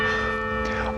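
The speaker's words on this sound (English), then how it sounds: "there's the church bells" Church bells ring with a sustained, resonant hum of overlapping tones, loud and steady throughout the short stretch.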